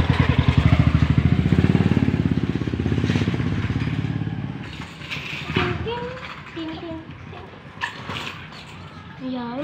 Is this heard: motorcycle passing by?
yes